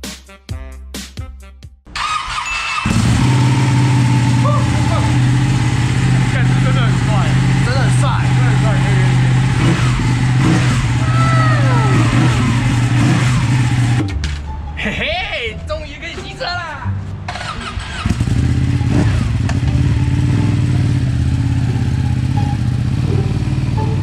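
A Ducati 899 motorcycle engine fires up and settles into a loud, steady, deep idle close by, dips briefly, then returns to a strong rumble, with people talking over it.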